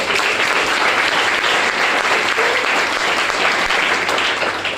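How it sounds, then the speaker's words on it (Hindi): Loud, continuous applause from a gathered audience fills the room, dense clapping holding steady from start to finish without any voices on top. "जोरदार तालियां आप सभी लोगों के लिए"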